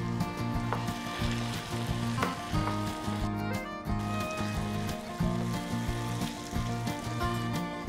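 Potato puttu mixture sautéing in a pan gives a steady, close sizzle and crackle that runs throughout, with background music playing underneath.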